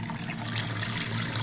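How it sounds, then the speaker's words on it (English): Water is poured off while rinsing grains, giving a steady close rush and splash of liquid that lasts the whole moment without pause. "Pour that water off."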